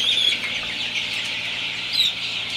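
Sonali super hybrid chicks, twenty-five days old, cheep and cluck continuously on a farm during hot weather, a dense high chatter with a couple of louder peeps.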